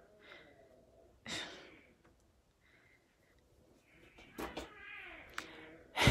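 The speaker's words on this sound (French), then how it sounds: "vous êtes en live de voir l'accouplement des chats" Mating cats yowl and meow in drawn-out, strained cries, with breathy hisses and snorts between calls, fairly close.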